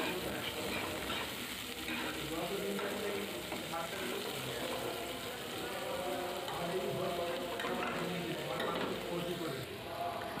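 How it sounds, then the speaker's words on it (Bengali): Chopped onions, one large onion's worth, fry in oil in a pan for a rohu fish kalia, making a dense, steady crackling sizzle that stays close and even throughout. "পেঁয়াজগুলো তেলের মধ্যে ভালোভাবে মিশিয়ে নিয়ে আমি ভেজে নেব"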